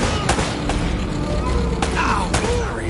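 Gunfire in the video game Uncharted: Drake's Fortune, several separate sharp shots spread across a steady background of combat noise, moderately loud, with voices talking during the exchange.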